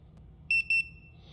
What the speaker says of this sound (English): it'll beep and go down to the 1 notch once it's calibrated and ready to check for that gas leak.